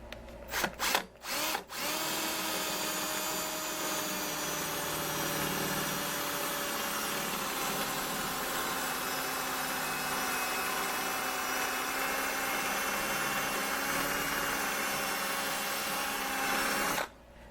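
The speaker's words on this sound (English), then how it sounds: "so I'm just going to drill about 1 1/8 inches hole there." A power drill with a dull bit bores a 1 1/8 inch hole in wood, running steadily for about fifteen seconds, a loud sustained whine after a few short starts, then cuts off.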